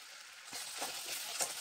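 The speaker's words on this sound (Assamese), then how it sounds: "এতিয়া ভালদৰে মই ভাজি ল'ম মছলাখিনি।" Spice masala mixed with grated tomato and salt fries in hot oil in a pan: a soft, steady sizzle begins after a short quiet pause, dotted with a few light clinks.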